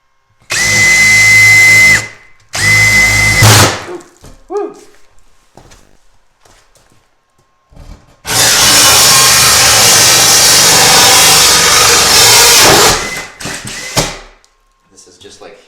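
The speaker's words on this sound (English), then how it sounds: "I'm gonna go through till the pilot bit punches through" Power drill driving a hole saw through thin eighth-inch plywood while setting a sink base cabinet: two short loud whirring bursts, a pause, then one longer sustained grinding run that stops abruptly.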